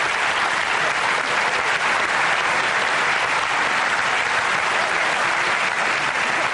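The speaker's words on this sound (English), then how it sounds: "why don't we give the teenagers a great round of applause for doing that" Sustained applause for teenagers at a talk, a dense, even roar of many hands clapping that holds steady and loud throughout with no speech.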